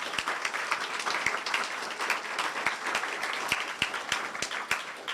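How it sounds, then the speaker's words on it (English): A crowd at a police community forum applauds the facilitators, dense even clapping throughout with some close, crisp individual claps punctuating it, and no voices heard. "Can we please give them a round of applause for all their great work?"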